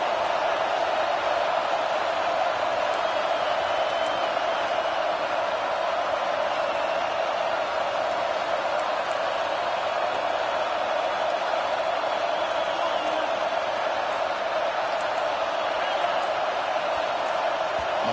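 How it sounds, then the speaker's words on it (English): Football stadium crowd roaring to spur on the defense before a red zone stop, a dense, steady wall of cheering noise sustained throughout. "And here comes the noise. This crowd is trying to inspire this defense to make a big red zone stop."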